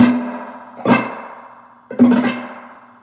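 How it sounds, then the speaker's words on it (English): Two strummed guitar chords played through a Danelectro Spring King spring reverb pedal ring out with a wet, springy reverb tail that lingers and splashes after each strike. "I'm using the Dan Electro Spring King reverb."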